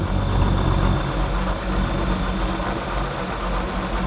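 An old Ford pickup truck engine idles steadily just after starting, a loud, close, rough low rumble that runs continuously without pauses or talk.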